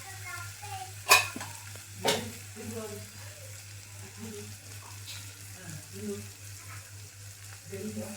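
Tomatoes frying in a pan for an alchanthakaya curry, with a spoon scraping and stirring through them in short strokes, including two sharp clanks early on, over a low steady hum.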